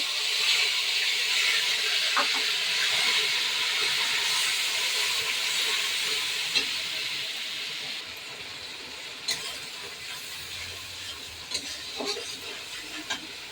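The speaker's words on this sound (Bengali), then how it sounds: "এবার মশলাটা দিয়ে দেবো।" Spice paste hits hot oil already tempered with whole cumin, dried red chillies and bay leaves, giving a loud, steady close-up sizzle that eases slightly over time, with a few faint clinks near the end.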